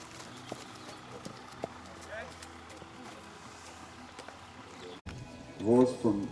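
Horse hooves clip-clopping faintly on the ground during an endurance ride, sparse soft steps under steady background noise, followed by a louder burst of voices at the end.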